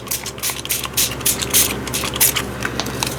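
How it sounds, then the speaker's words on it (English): Short bursts of a spray bottle hiss in quick succession, close and fairly loud, with light scraping and clicking between sprays. "And just gonna kind of spray that a little bit so it will move a little bit."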